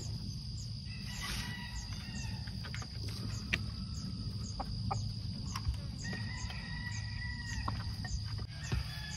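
Outdoor farmyard ambience with chickens clucking and a rooster calling intermittently, over steady insect chirring and a low background rumble.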